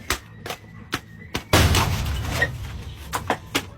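A firecracker goes off with a sharp blast among several short, sharp snapping pops spaced through the moment, followed by a rumbling decay, close and loud, with no clear speech.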